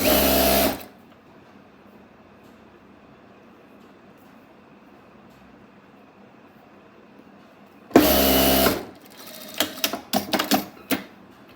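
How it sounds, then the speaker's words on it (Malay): A sewing machine stitches fabric for a telekung in two loud, close bursts of rapid whirring, split by a long quiet stretch of low hum. The second run ends in a scatter of sharp clicks and knocks. "Dan terus jahit suku inci, basi sampai habis."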